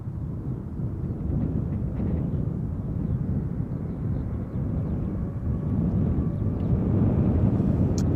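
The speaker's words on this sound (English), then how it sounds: "United Airlines Flight 21 outbound to Houston, Texas. 777-200 ER, 24 years old" A United Airlines Boeing 777-200ER, 24 years old, departs Schiphol Airport as Flight 21 to Houston, its jet roar a steady, broad rumble heard from a distance, building slightly toward the end with some wind buffeting.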